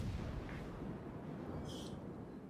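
Naval gunfire from warships in the World of Warships game, sounding as a dense, continuous low rumble of cannon fire and distant booms with a couple of faint high splashes, with no voices.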